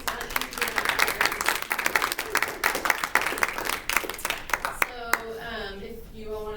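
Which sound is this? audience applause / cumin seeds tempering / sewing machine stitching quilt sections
audience applause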